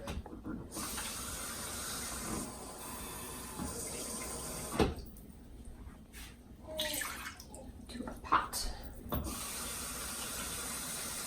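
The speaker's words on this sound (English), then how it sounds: "we're going to add 3 cups of water." Running water gushes steadily into an Instant Pot's inner pot, a continuous splashing hiss with a few soft knocks and clatters partway through.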